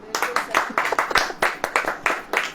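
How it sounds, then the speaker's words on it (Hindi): An audience at a religious sermon claps steadily, with a fairly even rhythm of sharp hand claps at close-to-moderate range, loud and without talk. "ताली बजाओ।"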